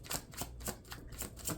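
Tarot cards shuffled by hand during a reading, giving soft repeated riffling bursts about every quarter second, close and fairly quiet, with no talking.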